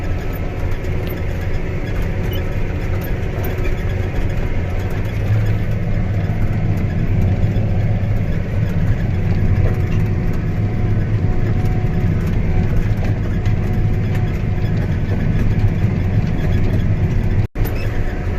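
John Deere 8230 tractor engine pulling a Case IH 335 VT disk across wheat ground, a steady loud diesel drone heard from the cab, continuous throughout with no talk.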